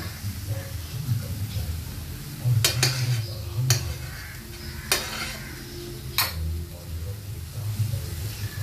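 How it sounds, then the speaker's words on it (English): Rajma masala roasting in butter in a pan, a constant sizzle broken by several sharp clinks and scrapes of a spoon stirring against the metal, close and fairly loud. "Let's just roast it in butter for some time."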